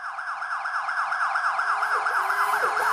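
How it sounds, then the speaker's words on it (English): A security system alarm siren wails in a rapid, rising-and-falling electronic pattern, loud and continuous with no voices over it. "No, that's the alarm from our security system."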